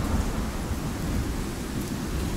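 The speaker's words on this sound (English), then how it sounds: "Freaking storm is never gonna end." A thunderstorm rages in the survival game Icarus: heavy rain and deep rolling thunder form a loud, dense roar for the whole stretch, with no voices.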